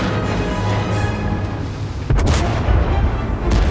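Heavy tank gun from the E 50 M in World of Tanks fires with a loud, sharp boom, followed by a deep rumbling tail, against steady low battle ambience.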